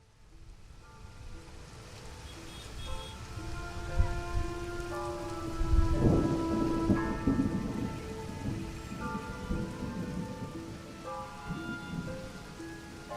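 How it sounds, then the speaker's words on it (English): Steady rainfall pattering on surfaces with a deep rumble of thunder rolling in midway, then fading back to rain. "Storms come in all shapes and sizes, striding through swollen puddles. In a dismal downpour, Alan Austin, as nervous as a kitten"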